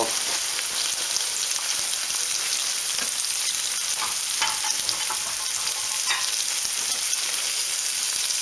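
Fish coated in Shore Lunch Cajun style breading fries in hot oil, giving a steady, dense crackling sizzle that runs unbroken throughout, close and fairly loud, with no talking.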